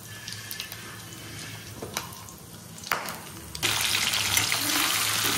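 Nigella seeds hit hot oil left from frying pabda fish, with light crackles and taps at first, then a sudden, louder steady sizzle that keeps going to the end.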